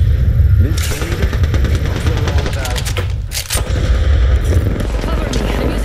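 Gunfire in the battle royale shooter Apex Legends, with rapid close weapon bursts and repeated sharp shots coming in clusters, loud and forward, mixed with game effects and occasional voices.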